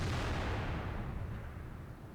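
An artillery gun fires in World of Tanks with a single deep, booming blast that rolls off over two seconds, heavy in the low end with no voices over it.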